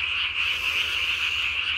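A tree frog calls at night, a loud, continuous, rasping trill held close up and steady throughout, with no other sounds or voices.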